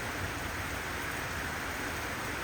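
Rain falling steadily during a rainy spell, a dense, even hiss with no breaks and no voices, close and moderately loud throughout.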